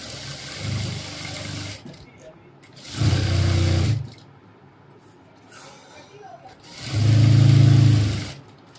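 A sewing machine stitches a cap dress in two short, loud bursts with quiet gaps between them, and someone talks during the pauses.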